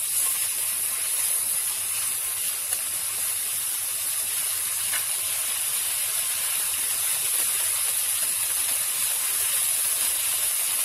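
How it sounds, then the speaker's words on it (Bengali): Ginger, garlic and onion fry in a pan for dal with vegetables, producing a steady, loud, close sizzle that hisses evenly throughout without pause. "আদা রসুনের কাঁচা গন্ধটা চলে যাওয়ার জন্য আমি একটু ভেজে নিচ্ছি পেঁয়াজের সাথে"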